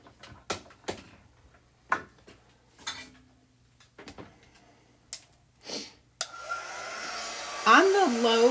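Hair dryer on a low, cool setting drying chalk paint on a T-shirt; it switches on after several scattered close clicks and taps and then blows as a steady whooshing hum, with a brief voice near the end.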